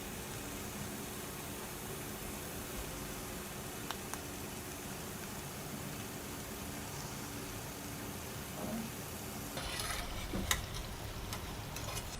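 Jalebi spirals frying in hot oil for a Tamil sweet recipe give a steady, low bubbling sizzle throughout, with a brief stirring clatter near the end and no talking.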